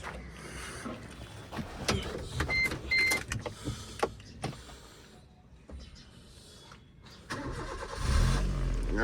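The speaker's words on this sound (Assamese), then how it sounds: "গাড়ী ষ্টাৰ্ট কৰি চাউণ্ডটো শুনাই দিলোঁ" A Maruti Suzuki Ritz hatchback cranks and its engine catches, settling into a steady idle close by, with clicks and brief whirring from the cabin before a louder rumble near the end.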